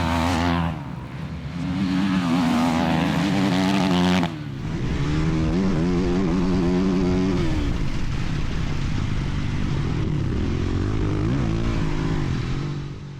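Dirt bike engines, including a Kawasaki motorcycle, rev and buzz during a motocross race, with one bike screaming close by before dropping away and the rest droning on at high pitch.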